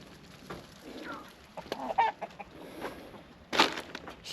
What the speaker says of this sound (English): As you can see, guys, the chickens have no problem getting water out of there.